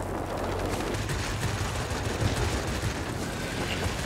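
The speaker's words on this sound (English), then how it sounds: "Let's see if we can hit a bomber with the rockets while we're standing up here." Aircraft in the World of Warplanes game firing rockets at a bomber, a dense continuous roar of rapid gunfire and explosions with engine noise underneath, loud throughout.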